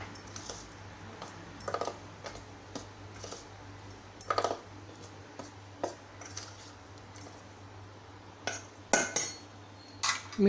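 Spoon clinking and scraping in a bowl while chilli vada batter with carom powder, baking soda and salt is mixed, irregular close taps spread over a quiet background, with a busier cluster of clatters near the end.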